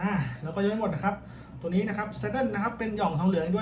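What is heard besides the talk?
None of the usual background noises is heard.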